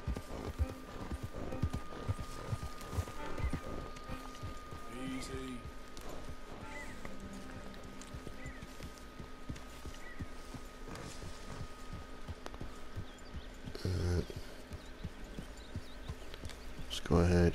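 Horse hooves in the video game Red Dead Redemption 2 clop steadily under continuous speech and dense background noise, moderately faint throughout.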